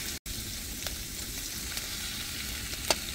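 Sliced garlic fries in butter in a pan at a camping spot, a steady soft sizzle and crackle with a few faint pops and stirring clicks throughout.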